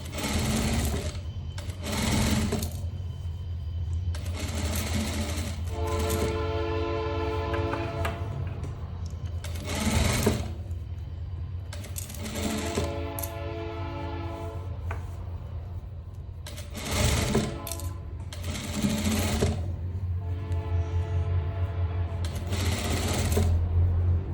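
A sewing machine stitches a striped shirt in several bursts of rapid, rhythmic mechanical chatter, separated by short pauses with quieter handling sounds, close and clear.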